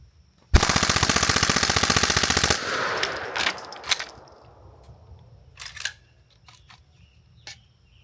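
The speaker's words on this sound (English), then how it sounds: "these 30 will be 150 rounds full auto through the BBC" Full-auto rifle fire through a C4 Armory BBC (Bigger Blast Chamber) silencer, a fast continuous burst of about two seconds of evenly spaced shots, loud and close, followed by clattering and clicks as it settles.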